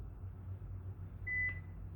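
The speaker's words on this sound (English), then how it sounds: "So we'll set the 10-second timer" An interval timer gives one short, clear electronic beep during a home exercise session, heard faintly over a low background hum.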